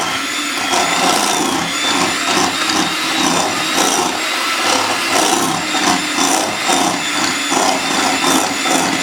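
An electric mixer beats lemon cream with half and half, a loud, steady whirring and rattling that runs without a break, close up with no talking.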